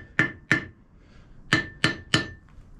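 Five sharp hammer blows strike an anvil fitted with a bare neodymium magnet, each a crisp clink with a brief damped ring, two quick hits then a pause and three more, close and clear.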